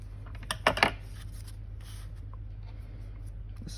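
Scissors trimming paper while decorating journal signatures: a few quick, crisp snips close by near the start, then only a quiet room hum.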